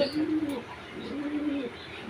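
Close King pigeons give two low, throaty coos in succession, steady and clear over faint background noise.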